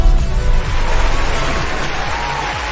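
Studio crowd applause and cheering at the opening of a marketing jam session, a dense, loud, steady wash of clapping and whoops lasting throughout.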